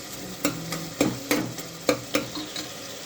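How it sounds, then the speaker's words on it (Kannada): Tomato and ginger-garlic paste masala being stirred and roasted in a pan for homemade biryani: a spoon scrapes in a rhythmic series of knocks every half second over a soft, steady sizzle. "ಚೆನ್ನಾಗಿ ರೋಸ್ಟ್ ಮಾಡ್ಕೋಬೇಕು."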